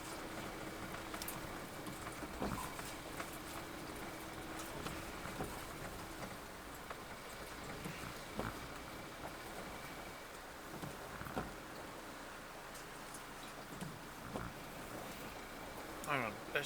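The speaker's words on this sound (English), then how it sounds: "Rain everywhere." Steady rain keeps falling during a rain-sodden drive back from Kirkby, a continuous soft hiss and patter with faint low road rumble throughout.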